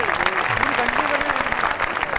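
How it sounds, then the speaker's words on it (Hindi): Audience at a Hindi poetry recital clapping for a poet, dense lively applause throughout, with voices speaking over the clapping. "एक बार तालियां बजाइए"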